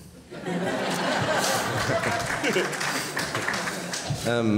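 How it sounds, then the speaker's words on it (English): An audience at a talk on psychoactive plants and religious freedom claps steadily as a dense wash, with laughter and scattered voices mixed in and a voice calling out near the end. "And you can clap if you would like to."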